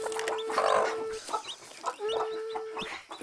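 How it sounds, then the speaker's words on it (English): A baby chick peeps with sustained thin high notes among nearby chickens clucking in short bursts, all close and fairly clear in a farmyard. "Oh Lord, we got a baby chick."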